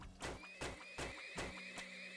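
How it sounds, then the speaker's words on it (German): Horses in the video game Turmoil give a rapid series of about five sharp, rhythmic whinnying bursts with bright accents, heard close and alone under a faint tone. "Ein paar Pferde mehr, damit es schneller geht"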